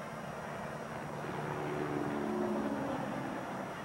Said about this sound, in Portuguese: E esse barulhão todo aí de um helicóptero que sobrevoa o Maracanã